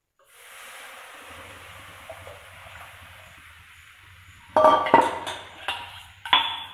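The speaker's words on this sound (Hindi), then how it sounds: "इसमें ये बेसन का घोल डालिए।" Gram flour batter poured into hot frying masala in a home kitchen, giving a steady low hiss that breaks into loud sizzling bursts as the batter hits the pan, mixed with clinks of utensils.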